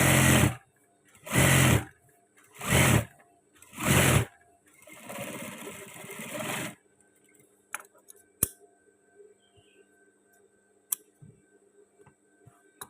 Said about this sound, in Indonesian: ini langsung kita jahit pas bagian tengahnya